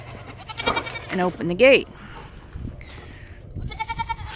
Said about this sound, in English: So we're gonna go feed the goats first, the girls, and then come back and get Tucker his breakfast.